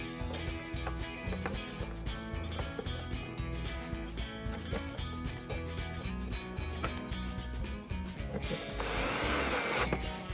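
A power driver whirs in short bursts as four short T20 screws are driven into the plastic of a Samsung dishwasher vent case, close and steady, with a louder hiss near the end.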